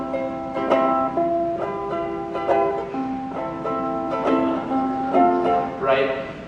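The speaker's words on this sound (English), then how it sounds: "typically you hear a ukulele and you kind of associate it with Hawaii." An ukulele plays a gentle Hawaiian-style melody of plucked, ringing notes at an even, relaxed pace, clear and close, with no talking over it.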